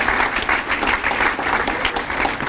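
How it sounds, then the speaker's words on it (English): Audience at a parish hall of fame induction ceremony claps steadily and densely, a full, close round of applause throughout. "How about a round of applause for those who set up the hall"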